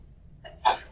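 A single short sneeze, a sudden sharp burst of breathy noise after a small intake, close and fairly loud against near silence.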